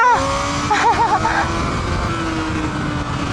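Kawasaki ZX-4RR motorcycle engine on a race circuit, revving high with sweeping pitch rises and falls as it accelerates and shifts, loud and close against steady wind roar.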